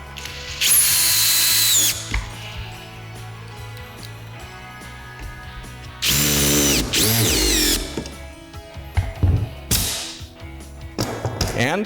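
A power drill drives Kreg square-drive pocket-hole screws into a wooden pocket-hole joint in three loud bursts: two long whirring runs with rising pitch, then a shorter final burst and a few clicks.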